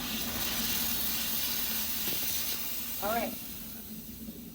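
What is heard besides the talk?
steam cleaner hissing while cleaning a room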